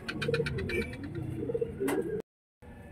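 Pigeons cooing close by as a male lotan pigeon chases a female, with repeated soft throaty coos, a faint voice now and then, and a short break in the sound near the end.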